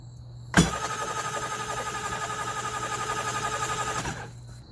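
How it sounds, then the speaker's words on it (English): A Kawasaki STX-12F or STX-15F jet ski engine cranks over steadily with its spark plug holes covered by a towel, a loud continuous rhythmic churning that starts abruptly and runs about three and a half seconds before cutting off, with no talk. "get yourself a towel to cover these spark plug holes up and crank the engine over"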